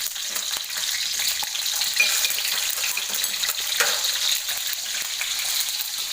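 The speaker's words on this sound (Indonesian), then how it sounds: "setelah minyaknya panas, kita masukkan tomatnya, cabenya juga kita masukkan semuanya, kita goreng semua." Tomatoes, chilies, garlic and shallots frying in hot oil for pecel lele sambal give a steady, close, crackling sizzle with occasional stirring clicks and no talk.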